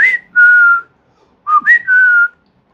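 Someone whistles a clear, close tune in two short phrases, with sliding notes that settle into held tones and a brief pause between the phrases.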